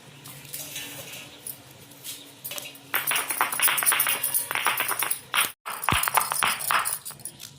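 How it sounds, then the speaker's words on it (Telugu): Cardamom pods pounded to a fine powder, a run of sharp close taps and crunchy thuds in quick rhythm after a quieter start, with a brief pause near the end. "ఇట్లా మెత్తగా దంచుకోవాలి"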